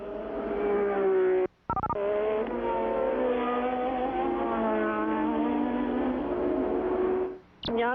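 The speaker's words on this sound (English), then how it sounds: "you're seeing the rear end of a car being driven by Nelson Piquet that had been leading this Grand Prix" A 1987 Formula One car engine screams at high revs during the Belgian Grand Prix, holding a loud sustained whine with rising and falling gear pitches, cut by two brief dropouts.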